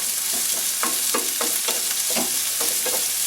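Chopped onion, garlic, ginger and green chillies sizzle in hot oil with cumin for a dal tadka, with steady frying hiss and a few scraping stirs close by.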